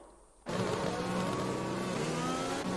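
A Formula 1 race car engine in a video game at the Chinese Grand Prix, bursting in suddenly and holding a loud, steady high-revving whine close up, with a brief dip near the end.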